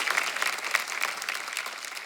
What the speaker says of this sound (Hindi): आप सबकी जोरदार तालियों के बीच प्लीज वेलकम योगिता बिहानी